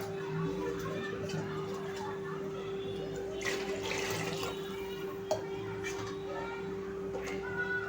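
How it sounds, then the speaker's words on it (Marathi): Water used to rinse a mixer jar is poured into a pot of prawn curry. It makes a brief splashing pour midway, over a steady hum and with a voice in the background. "हे मी मिक्सरचं भांडं विसळलेलं पाणी टाकते ह्याच्यामध्ये"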